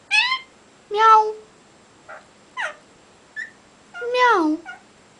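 A cat meows in short separate calls, about five or six over a few seconds, close and clear, a couple rising and falling in pitch, with quiet gaps between.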